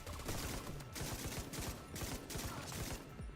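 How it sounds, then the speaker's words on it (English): Rapid gunfire with impact hits from a video game shooter, a dense continuous stream of sharp shots over about three seconds, fairly quiet and with no talk over it. "It's one of my favorite noises, the headshots."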